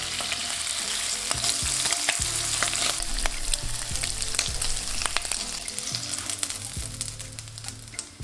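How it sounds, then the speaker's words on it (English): Beef or turkey bacon sizzles loudly in a pan, a close, continuous crackling hiss with sharp pops and a few scraping stirs or flips, no voices. "you want to fry up some of this beef or turkey bacon. Let this cook for a minute on each side until nice and crispy."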